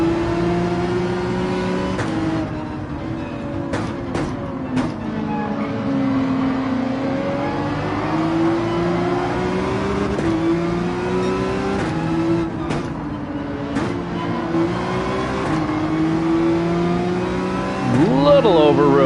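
A Porsche 911 race car in Gran Turismo 7 revs and accelerates through its gears on a rolling start at Brands Hatch, its engine whine rising and falling in repeated sweeps beneath someone talking, ending in a sharp high climb.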